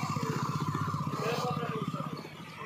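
Motorcycles arriving at an Eidgah for Eid prayers, a small engine chugging with a rapid regular putter nearby while voices talk over it, fading slightly at the end.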